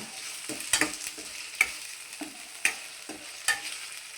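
Green chillies and fenugreek seeds hitting hot oil, a crackling sizzle with sharp spitting pops repeating roughly once a second over a steady fry hiss, close and moderately loud, no talking.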